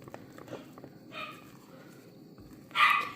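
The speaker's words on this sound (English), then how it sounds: "And the dog's in there having a fit." A dog indoors barks loudly in a kitchen, a few sharp barks, with one strong bark near the end, over faint background clatter.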